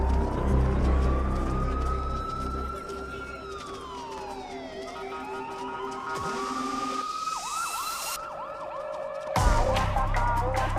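An ambulance siren in a film scene wails with long rising and falling sweeps, then switches to rapid yelping cycles, over traffic and crowd noise. Voices speak beneath it.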